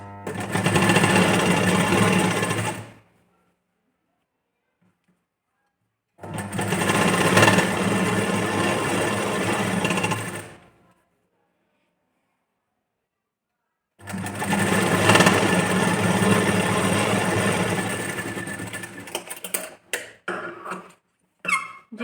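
A sewing machine stitches a lining strip for a boat-neck princess-cut blouse, three loud sustained runs of rapid mechanical clatter separated by silent pauses, close by, ending in a few short stuttering stitches.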